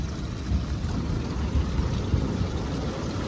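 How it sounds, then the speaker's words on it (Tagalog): Low rumbling thunder rolls under steady rain falling on the sea at the Maragondon sanctuary, a soft, continuous wash with a faint deep grumble beneath it. "Lakas na ng kulog."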